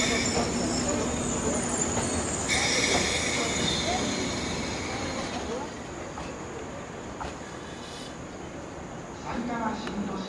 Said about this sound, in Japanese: この列車は4つドア15両です。